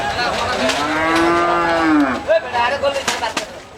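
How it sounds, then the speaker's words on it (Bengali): A single long, close, loud moo from a bull at a busy cattle market in Banshkhali, Chattogram, lasting about two seconds, followed by shorter bursts of background market noise. "আজকে এখানে বেশ কিছু গরু আছে"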